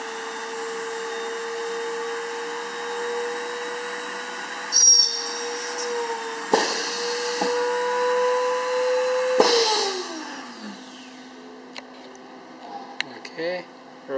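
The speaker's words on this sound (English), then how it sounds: "And then the drill comes forward." An automated drilling machine's motor whines steadily at a constant pitch, broken by a few sharp clunks, then the pitch sags and the whine winds down to a lower hum.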